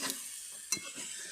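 Carrot greens sizzle softly in a pan while a spoon stirs and scrapes through them, quiet frying with a couple of sharper clinks and scrapes.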